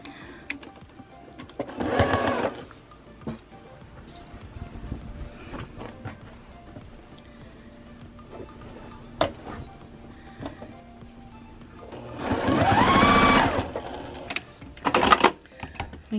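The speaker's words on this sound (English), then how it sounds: "make sure that the fold is even to this seam, and then start sewing here" A longarm quilting sewing machine stitches a T-shirt quilt in two short mechanical bursts, one early and a longer one near the end, with quiet handling noises between them.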